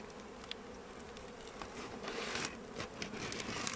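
Honey bees drone and buzz in a dense, continuous haze from an overflowing beehive, a faint, steady swarm sound with small ticks and rustles close by, and no voices.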